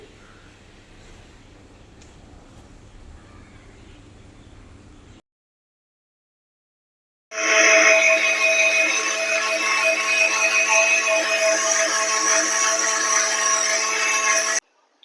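A mixer grinder blending lemon juice starts after a brief silence and whirs loudly and steadily for several seconds, a strong motor drone with a constant pitch, then stops abruptly.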